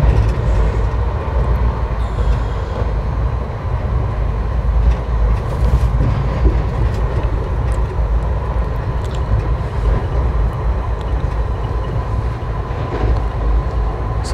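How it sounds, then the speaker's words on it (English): Indian Railway express hauled by a WAP4 electric locomotive running at about 110 km/h, a steady loud rumble and roar of wheels on track with faint rhythmic clicks, continuous throughout. "Now that the real power of the VAP4 locomotive is unleashed, this is the action of which I was expecting"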